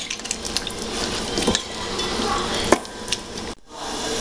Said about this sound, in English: Esto que le eché ahora mismo es vinagre.